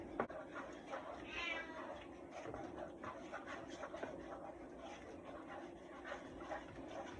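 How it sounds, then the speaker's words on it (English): A cat meows a few times, up close, in a kitchen during cooking, over steady background noise and faint household sounds. "I'm afraid you're going to be stuck with the sound of the cat."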